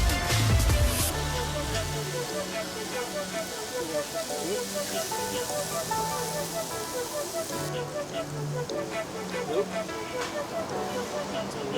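Bacon sizzling in cooking oil in a pan, a steady close crackle and spatter running throughout, with a brief clatter at the start.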